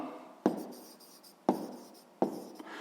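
Divisors being written down by hand: pen strokes scratch softly on paper, with three sharp taps as the pen lands, each followed by a fading scribble, close and quiet with no talk.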